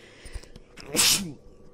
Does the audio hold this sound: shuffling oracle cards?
no